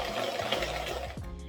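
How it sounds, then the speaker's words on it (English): A whisk beating guava cake batter flavored with almond extract in a bowl, a fast, steady, rhythmic scraping that runs close and continuous with no talking. "I'm going to give it one last whisk."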